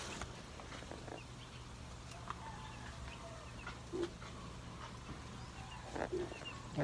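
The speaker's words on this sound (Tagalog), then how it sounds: "Manok na ni guys, kaya dagko naman guys ah." Faint clucking from chickens in a yard comes and goes over steady low background noise, with a few brief, slightly louder calls.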